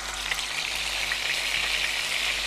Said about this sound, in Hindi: और मैं ये चिकन टिक्का जो है वो डाल रही हूँ